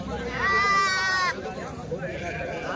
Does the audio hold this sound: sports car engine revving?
no